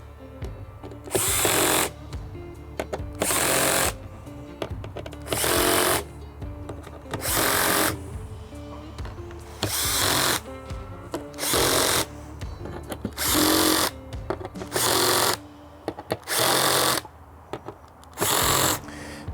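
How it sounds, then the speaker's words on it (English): A power driver whirs in repeated loud bursts of a second or so, separated by short pauses, as screws go into a motorcycle bag's back plate, about ten close runs in a row. "Make sure that they're all nicely screwed down."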